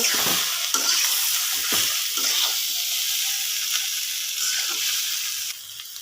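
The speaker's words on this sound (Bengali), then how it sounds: "এখন মশলাগুলো মিশিয়ে নেব নুডলসের সাথে" Vegetable noodles are stirred with masala in a hot pan: a soft, continuous sizzle with several scraping stirs early on that quieten toward the end, and no voices.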